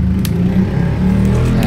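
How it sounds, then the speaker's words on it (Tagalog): A motorcycle passes by outside, its steady low engine drone continuous and moderately loud with no talk over it. "Ayan, dumadaan pa yung motor."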